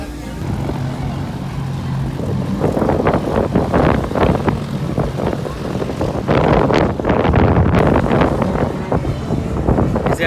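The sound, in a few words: wind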